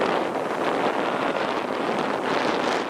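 Wind on a sailboat at sea, about 13 to 16 knots, roaring across the microphone in a steady loud rush with gusty swells, over a faint wash of water.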